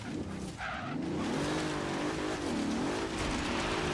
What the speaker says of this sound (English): I love the way that engine sounds